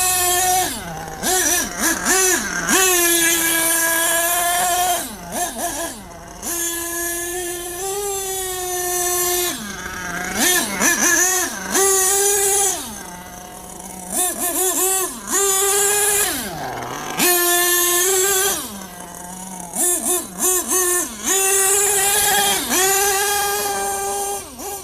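Old truck engine in a basement running and revving hard, its pitch repeatedly climbing and dropping in surges, loud and close, with a few brief dips between revs.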